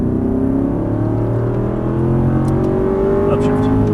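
A race car engine on a track roars loud and close as the car accelerates, its pitch climbing steadily through the gear, and a voice talks over the engine noise.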